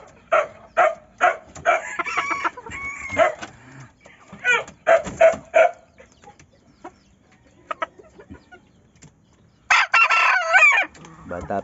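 A young bulik gamefowl rooster gives repeated short, strained crows and clucks close by, in bursts separated by quiet gaps, with a final loud outburst near the end.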